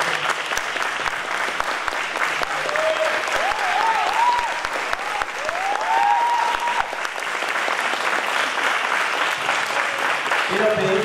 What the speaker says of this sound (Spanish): Quiero también pedir un muy fuerte aplauso para mis bailarines